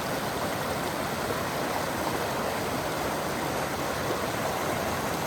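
Newton Creek rushes steadily along a forested hiking trail near Elk Meadows, a dense, even wash of flowing water close by with no talking.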